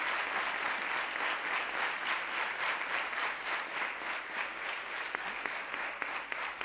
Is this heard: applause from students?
yes